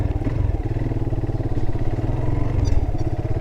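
A motorcycle engine chugs with a steady, pulsing rhythm while riding along a road, loud and close throughout, with slight rises in revs and no talk.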